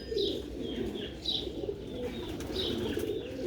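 Pure Sialkoti pigeons coo softly in low, repeated rumbling calls, with faint chirps mixed in, close by but quiet.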